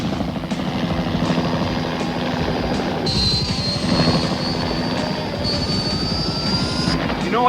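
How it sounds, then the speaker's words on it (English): A helicopter drones steadily overhead with a rhythmic rotor chop and engine whine, continuous and fairly loud throughout. "Keep Venom's chopper corralled so we don't lose the throne"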